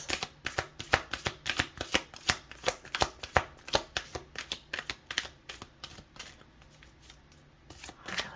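A Moonology oracle card deck being shuffled up close, a rapid run of crisp riffling card flicks that thin out and slow toward the end.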